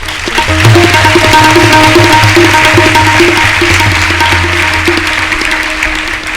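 An audience at a Navratri devotional gathering claps along in a dense, sustained rhythmic patter, with music tones running underneath.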